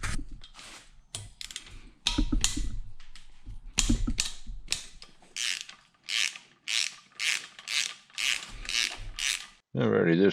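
A ratchet wrench loosens 12 mm bolts on the cylinder head of a 2003 Honda Shadow 1100 motorcycle engine, giving close, loud bursts of rapid clicking in a repeated stop-start rhythm, ending with a short metallic clank.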